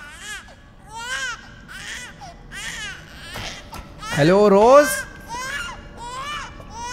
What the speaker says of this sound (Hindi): कहीं से रोज के रोने की आवाज़ आ रही है,